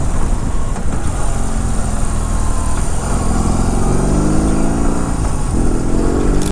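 A BMW R18 Roctane, a heavy motorcycle, rides along with a loud, steady engine drone and rising gear-by-gear revs under strong wind noise, close and continuous.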